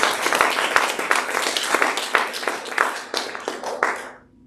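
Audience at a gathering on Indigenous women's advocacy claps in a dense burst of handclaps that fades out after a few seconds, with no talk over it.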